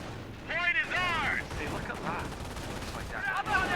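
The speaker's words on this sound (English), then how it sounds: "He only needs two rifles firing." Rifle fire in the Company of Heroes 1 battle game, a few bursts of shots over a rumbling battlefield background, with a short run of high whistling tones.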